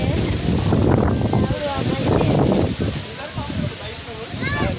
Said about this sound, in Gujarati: અને કેટલી હવા આવે.